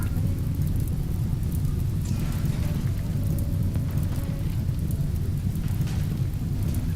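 In the video game RimWorld, rain pours down on a burning building, making a constant, dense hiss that holds at the same level with no pause.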